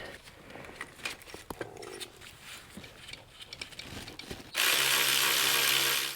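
Torque wrench ratcheting as it tightens the throttle body bolts on a 2006-2010 Subaru Legacy Outback engine, with a series of quick, close mechanical clicks, then a loud, steady rushing noise near the end.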